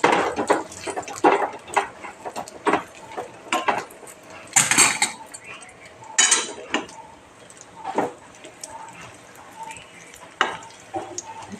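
Dates roasting in ghee in a pan, with a soft sizzle under repeated spatula scrapes and clinks against the pan at an irregular stirring rhythm, close by.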